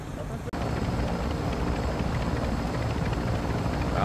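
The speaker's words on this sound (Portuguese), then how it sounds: "Tem outro helicóptero na região, viu?" A helicopter in Call of Duty Warzone 2 drones loudly and continuously with a steady rotor rumble, broken only by a brief cut near the start, while players talk over it.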